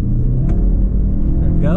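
A 2020 Subaru Outback XT with its turbo engine accelerating hard, a loud, close, steady engine roar and rumble filling the whole short moment.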